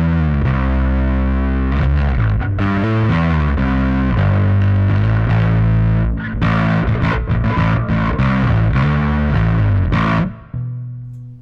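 An overdriven bass guitar tone through an Axiom amp plays a distorted riff of sustained and choppy notes, loud and close, ending with a brief decay; no talking.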